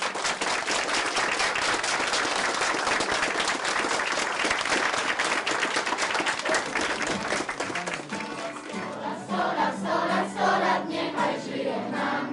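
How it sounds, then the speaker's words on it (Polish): A crowd gives loud, sustained applause, continuous clapping for around eight seconds that then drops away as people begin speaking. "Gromkie brawa."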